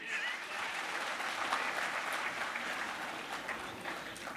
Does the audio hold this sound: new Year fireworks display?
no